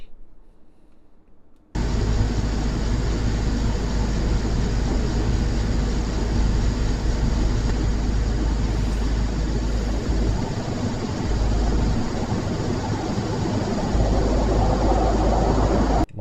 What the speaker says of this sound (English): Well, that's a car, right?